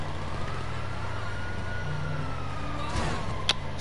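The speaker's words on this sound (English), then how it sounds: "Can you turn off that siren, bro? It's hella annoying." An emergency vehicle siren wails steadily in GTA 5 Online, heard as a long rising and falling tone under traffic and engine noise at a car meet, with a sharp burst near the end.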